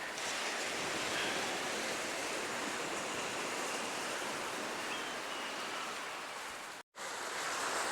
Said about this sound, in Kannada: ತಣ್ಣೀರುಬಾವಿ ಕಡಲ ತೀರ.